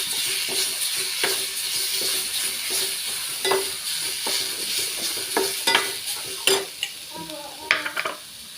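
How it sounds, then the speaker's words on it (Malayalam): Pre-cooked tender jackfruit fries with ground spice paste and salt in a pan, a constant sizzle punctuated by repeated scrapes and clinks of a spoon stirring against the metal; nobody speaks. "അരപ്പിട്ട് നമുക്കൊന്ന് അരപ്പിനൊന്ന് വേവിച്ചെടുക്കാം"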